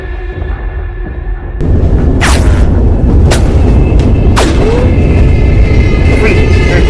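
Gunfire and explosions in the Gorebox video game during a train robbery mission, with several sharp booming shots spaced about a second apart over a loud, constant rumbling train background.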